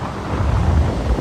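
Steady low roar of wind buffeting the microphone on a windy beach on Thailand's coast, rumbling and continuous with no voices.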